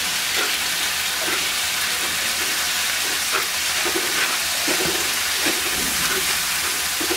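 Pumpkin bori spice mixture fries in a pan for a Bangladeshi fish curry, a loud, continuous, even sizzle with faint stirring scrapes throughout, no voices.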